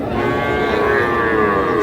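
Young calves low loudly and close by at the Ambari cattle market in Parbatipur, Dinajpur, with a long sustained moo over busy market noise.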